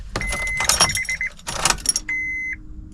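A 2006 Honda S2000 AP2 under restoration after a wreck, cranking with a weak battery: short whirring starter bursts and clicks with a steady electrical whine, close and loud, no engine catching yet.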